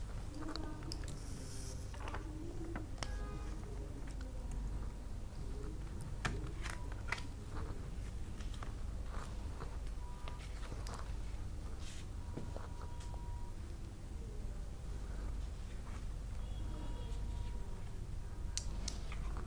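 Tarot cards are drawn and shuffled by hand in a quiet room, a faint, irregular run of soft snaps, slides and light taps spread across the whole stretch.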